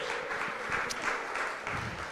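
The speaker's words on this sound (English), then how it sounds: "Let's give them a warm round of applause." Audience applause at a social media event, thanking the event's sponsors; a steady, dense wash of many hands clapping continues throughout without voices.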